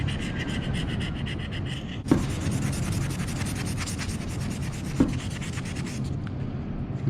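Sticker residue being rubbed off with a fine-grit rubber sanding block, a close continuous scratchy rasp in strokes, with two brief knocks and a pause near the end.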